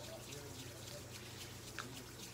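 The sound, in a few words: warm running tap water over hands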